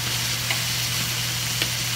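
Chicken pieces sizzling and crackling in a hot pan, a steady hiss with a few sharper pops, fairly close and quiet.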